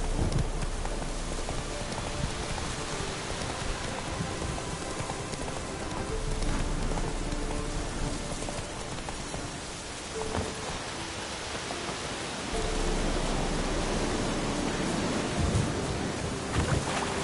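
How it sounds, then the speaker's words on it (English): Steady heavy rain pours through a stormy night in The Witcher 3, a dense wash of drops on surfaces with occasional horse hoof clops, while no thunder clap clearly stands out. "The storm, damn it."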